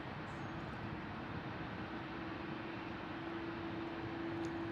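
A Boeing 787-8 Dreamliner takes off from Heathrow, a steady distant broadband jet roar with a faint whining tone rising slightly toward the end, no talk.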